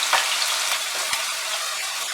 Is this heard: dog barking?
no